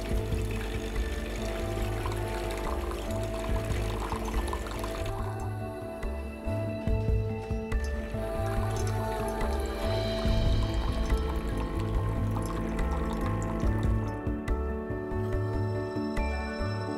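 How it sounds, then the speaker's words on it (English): Water runs from a Tea Master tea machine into a cup right after a filter replacement, a steady continuous flow and trickle with dripping that holds at an even level throughout, with no voices. "Press the Tea Master button several times until the water flows."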